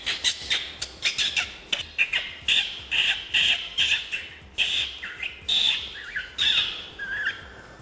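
Imitated bird calls made by a voice for a puppet play sound effect: a rapid series of sharp, high squawks and chirps repeating in quick bursts for several seconds, close and fairly loud, with no talking.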